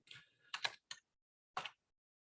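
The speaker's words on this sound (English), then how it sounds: "start typing in my search field here" A few short bursts of keystrokes on a computer keyboard while entering a search, close and quiet, with gaps of silence between the clusters.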